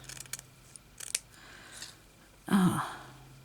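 Scissors snip through fabric to cut off a spotted piece during a sewing craft session, several close, crisp cuts followed by a louder rustle of handled cloth.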